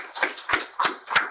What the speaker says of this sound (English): Let's get a final clap for everybody.